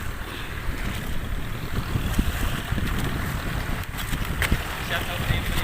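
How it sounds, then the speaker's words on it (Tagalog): Strong sea waves and wind around a small fishing boat heading out to sea, a constant rough wash with gusty wind buffeting the microphone and occasional splashes. "Lakas-lakas yung alon ngayon mga kadagat."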